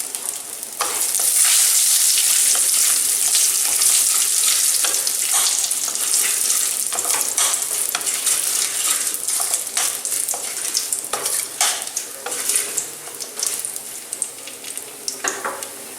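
Raisins and cashews frying in hot oil for watermelon-rind chutney, a dense close sizzle that runs steadily throughout with faint stirring scrapes and crackles, no voices.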